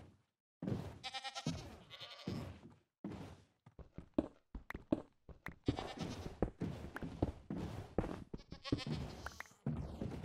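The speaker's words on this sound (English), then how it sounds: "I got a goat in the boat." A goat in Minecraft bleats several times in a row, up close and clear, with short game sounds and thuds between the cries and no talk.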